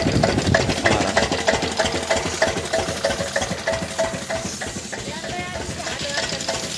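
A tractor's diesel engine chugs and knocks in a steady, rapid rhythm close up in a village, loud and continuous throughout.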